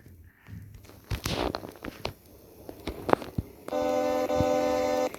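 A sustained, buzzy electronic vehicle horn in the Roblox game Brookhaven blares for about a second and a half after a stretch of scattered footsteps and clattering.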